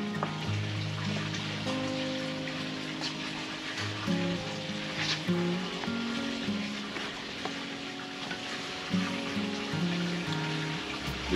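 Olive oil sizzling on a hot Blackstone griddle at around 600 degrees, a steady crackling hiss like light rain running continuously, with faint intermittent tones in the background.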